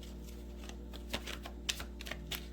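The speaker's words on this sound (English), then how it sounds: "I won't shuffle anymore." Tarot cards being shuffled by hand, a quiet series of soft, irregular papery clicks and flutters close by over a low steady background hum.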